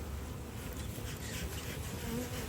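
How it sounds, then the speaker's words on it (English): Dense, continuous buzzing of many honey bees close by at a hive during an inspection, steady and loud throughout. "A lot of bees."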